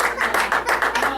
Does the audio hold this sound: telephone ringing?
no